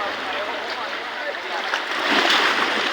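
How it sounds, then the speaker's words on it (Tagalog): Sea waves wash against rocks along a clear-water shore, a loud broad rushing wash that swells near the end, close by and without talk. "Ayan, napakaganda ng alon."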